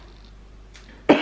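A single short, sharp cough from a person indoors at home, loud and close, coming near the end after a quiet stretch.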